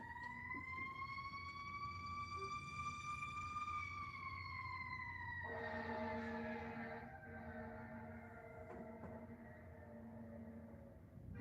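Wailing emergency vehicle sirens from a nearby ambulance, police and fire station, one sweeping tone joined by a second siren midway, distant and faint over low background rumble.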